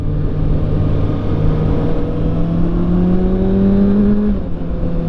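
Kawasaki ZX6R sport bike engine pulls hard at steady high revs, its pitch climbing smoothly before a quick-shifter upshift near the end drops it sharply, with no talking over the loud, close engine note.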